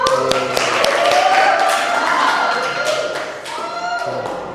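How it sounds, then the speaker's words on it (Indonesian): Hands clapping in a classroom, a few sharp claps at the start followed by a stretch of voices and then scattered claps again, close and fairly loud. "Tepuk tangan Mas Yusuf."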